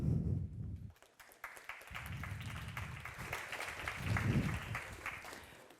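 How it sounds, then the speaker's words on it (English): Audience applause greets a RockawayX researcher taking the stage at a Cosmos multichain conference talk, a steady wash of clapping that dips briefly near the start, then swells again, fairly loud in a hall. "please give a warm and big applause to RockawayX researcher Filip Široký"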